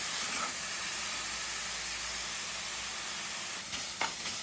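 Rice roasting dry in a hot pan gives a steady, close sizzling hiss throughout, with a few light scraping clicks near the end.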